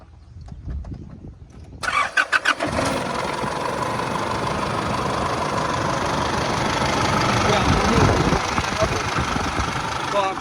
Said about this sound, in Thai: เดี๋ยวสตาร์ทเครื่องให้ฟัง